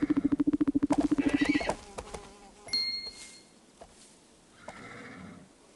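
A cartoonish horse whinnies in a pulsing, rapid burst in the Barbie Dreamhouse stable game, followed by sparkly game chimes and soft effects.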